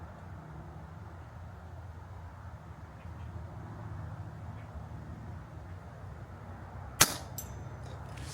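A RAW TM1000 air pistol, fired off a sandbag with a rifle scope, gives one sharp crack near the end of a quiet, steady outdoor background, with no talk.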